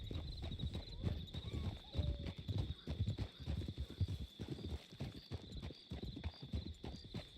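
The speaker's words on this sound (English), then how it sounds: "that is a herd of people on horses" Many hooves clip-clop in a busy, overlapping rhythm, like several horses moving together nearby, with a steady high tone in the background, from Red Dead Redemption 2.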